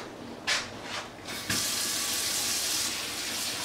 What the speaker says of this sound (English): And now this shrimp, you gotta cool off, cold water.